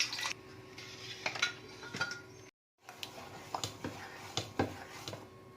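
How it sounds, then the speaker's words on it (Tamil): A mixer grinder jar being rinsed with water in a home kitchen, with close clattering knocks of the jar and splashing water in irregular bursts, broken by a brief moment of silence. "மிக்ஸி ஜாரை நம்ம கழுவிட்டு கொஞ்சம் தண்ணி இதில் ஆட் பண்ணிக்கலாம்"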